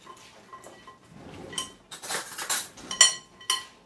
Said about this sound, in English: we're going to coat all the pecans with the egg mixture